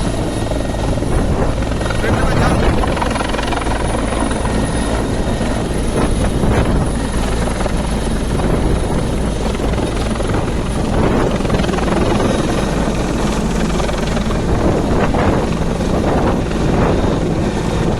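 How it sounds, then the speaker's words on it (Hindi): Helicopter taking off from a helipad at a battalion ground in Bhind after a political rally, a loud, steady rotor and engine roar that fills the whole stretch, with brief speech underneath. "हेलीकॉप्टर उड़ता हुआ"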